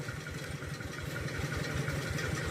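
A small engine driving a water pump runs at a steady idle, a close, even low throb with a regular pulsing rhythm and no voices.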